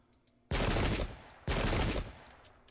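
Two loud, broad musket volleys crash out about a second apart in an English Civil War Pike and Shot battle. Each volley rolls on briefly before fading, with no talk over them.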